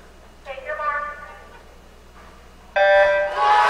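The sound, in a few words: starting buzzer for swimming medley relay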